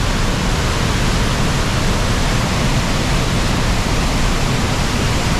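Loud, steady roar of rushing water, a dense unbroken wash of noise with no pauses or voices.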